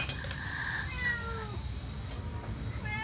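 A domestic cat meows a few times in a kitchen during cake baking, a drawn-out call near the start and softer cries later, over a steady low background hum.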